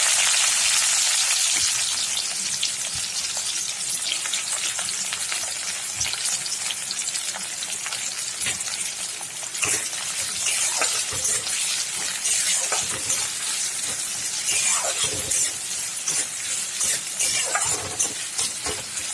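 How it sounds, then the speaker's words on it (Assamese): Chopped onions fry in hot mustard oil with a dense, continuous sizzle and occasional stirring scrapes, close and steady for the whole stretch, with no talking. "তেলটো গৰম হৈ আছে, গতিকে মই ইয়াতে কাটি থোৱা পিঁয়াজখিনি দি দিছোঁ"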